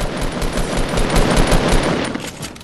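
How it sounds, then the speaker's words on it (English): Dense gunfire from several players in the Fortnite video game: continuous overlapping automatic bursts and shots, loud and close, with no break for the whole stretch. "there's like five people shooting me"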